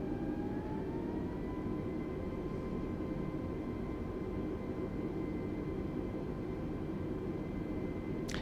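Airbus A320 jet engines in Microsoft Flight Simulator 2020 spool up on the runway, a steady broadband roar with a rising whine tone that climbs and then holds, continuous and loud throughout with no talk.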